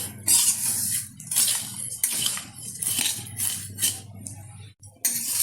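Vermicelli and coconut frying in a pan for Eid shimai, stirred with repeated scraping and clinking strokes of a utensil against metal over a low sizzling hiss, close and fairly loud, with no talking.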